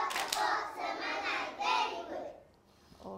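A class of preschool children claps together in a burst of hands for about two seconds before it fades, with a brief quieter patch and then renewed sound at the end.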